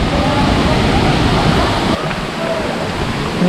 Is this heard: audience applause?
no